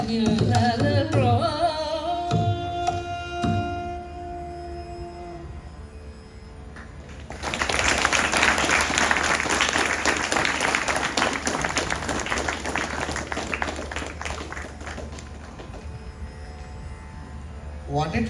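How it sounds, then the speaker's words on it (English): An audience breaks into sustained, dense applause after a Carnatic vocal concert, following a fading held tone of music; the clapping continues strongly for about ten seconds before thinning slightly. "Give a big round of applause to our artists."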